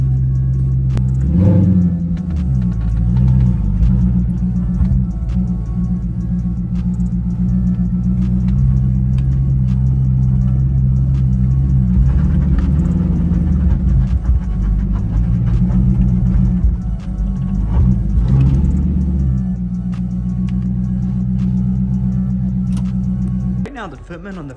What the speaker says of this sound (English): Cold start sounds so crispy though on here.